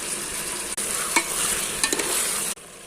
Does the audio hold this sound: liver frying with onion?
yes